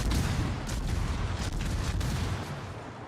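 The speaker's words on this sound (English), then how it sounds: "Damn torpedoes." Dense, loud rumbling explosions and booming impacts from torpedo hits on a warship in a naval battle video game, a continuous roar of blasts with no voices over it.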